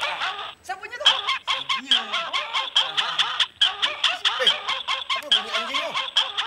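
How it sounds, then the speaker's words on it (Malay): A dog-bark phone ringtone sounds in a television comedy set, its repeated barks coming in a fast, steady rhythm and fairly loud, while people talk over it. "Apa bunyi anjing tu?"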